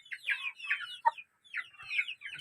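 Chickens kept in a backyard coop, including a large brown hen, cluck in short, close bursts with one sharp squawk in the middle and a brief pause before the clucking resumes.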